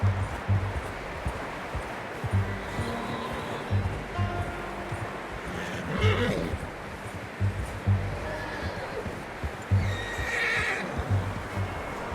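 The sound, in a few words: horse neighing in a video game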